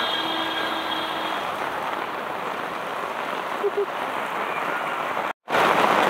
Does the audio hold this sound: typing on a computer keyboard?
no